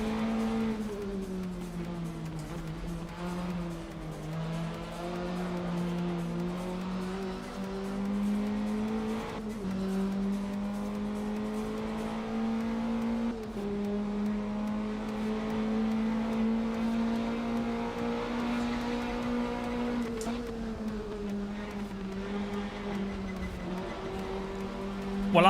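A race car engine in Assetto Corsa drones steadily throughout, its pitch rising and falling through gear changes as it drives continuously, loud and up close with no talk over it.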